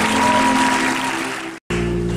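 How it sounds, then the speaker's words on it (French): A church congregation applauding loudly for the Lord at a covenant-day service, a steady wash of clapping that slowly fades, breaks off briefly near the end, then resumes. "J'aimerais qu'on acclame très fort pour le Seigneur"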